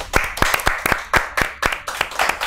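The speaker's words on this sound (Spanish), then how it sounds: "Un aplauso, por favor." A small studio audience on a talk show claps, loud, close and sparse, with distinct individual hand claps landing in a quick, uneven rhythm for a couple of seconds.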